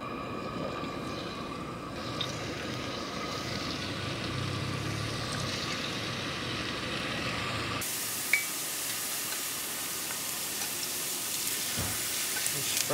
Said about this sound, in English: Frying this up just like potato chips.